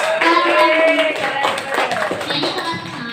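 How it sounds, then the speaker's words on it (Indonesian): Group clapping in a classroom presentation setting, with brief, scattered taps and voices mixed in over a short span, fairly close and moderately loud. "tepuk tangan."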